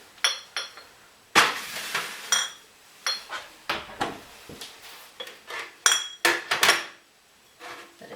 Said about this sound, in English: get the jars out the oven